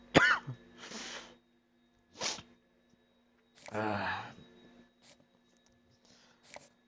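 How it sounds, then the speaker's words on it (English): A person coughs several times in short separate bursts, close and dry, with a throat clear and quiet pauses between the coughs. "Still dealing with a little bit of a cough"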